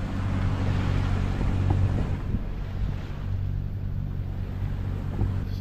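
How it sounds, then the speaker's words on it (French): The engine of a sailboat motoring along a coast hums as a low steady drone beneath wind buffeting and the wash of water against the hull, continuous and moderately loud with no voices. "tu l'entends qui ronronne. On a dû allumer le moteur."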